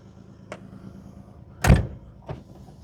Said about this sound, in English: I guess I better close my door.